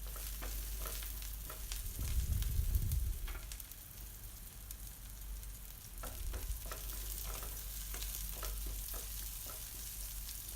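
Onions and curry leaves sauté in a pan for a pumpkin stir-fry, giving a steady, moderate sizzle with occasional scraping from stirring and no voices.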